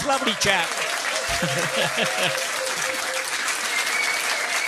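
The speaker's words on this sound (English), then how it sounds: "give him a big round of applause" A pub trivia quiz crowd breaks into loud, sustained applause, the dense clapping filling the room while someone speaks briefly at the start.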